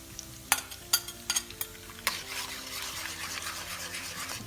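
Eggs frying and being stirred in half a cup of oil with garlic, with sharp scraping clinks early on giving way to a steady sizzle, close and fairly quiet.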